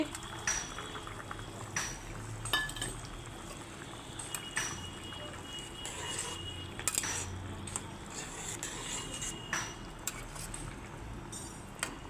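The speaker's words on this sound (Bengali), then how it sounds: "এই দেখুন ফুটে গেছে" A pot of okra and potato curry bubbles at a faint, steady simmer, with scattered soft pops and the occasional light clink of a utensil.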